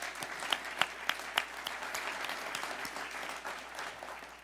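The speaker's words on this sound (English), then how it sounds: "So please give one more round of applause for our mayor." A crowd at a university ribbon cutting claps for the mayor, a steady patter of applause with a few sharp, louder claps up close early on, fairly quiet overall.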